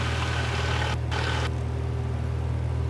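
The engine of a small airplane runs at full power for takeoff, a loud, steady droning rumble that stays even throughout and is cut by a brief gap in the hiss near the middle.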